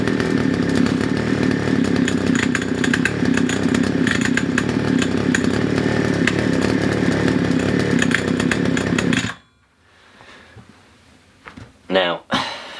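A 2-stroke strimmer engine runs after sitting through winter, a loud, close, buzzing drone with a rapid rattle that holds steady for about nine seconds, then cuts off abruptly, leaving quiet room noise and a couple of short knocks.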